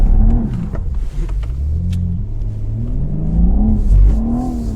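BMW M3 Competition sliding sideways under throttle, engine revs rising and falling in loud surging pulls, close and continuous with no voices.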